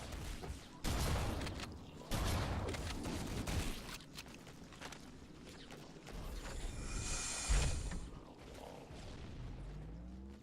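Rocket launcher blasts in Halo on Xbox One, several heavy booming shots spaced a few seconds apart amid mechanical game noise, with little talking.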